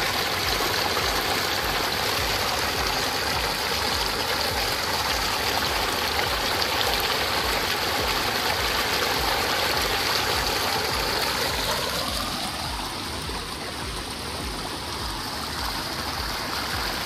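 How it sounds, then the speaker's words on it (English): A continuous, loud rush of pumped water flowing from a pump outlet back to the ocean at a coastal landslide site, steady throughout with a slight change in tone near the end. "here's one of the pumps, the exit of the water. These are flowing 24/7 back out to the ocean"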